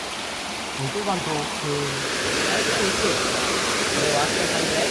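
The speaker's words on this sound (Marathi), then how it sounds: "धबधबा" A waterfall roars in a steady, dense rush. Someone speaks briefly early on, partly buried under the continuous noise.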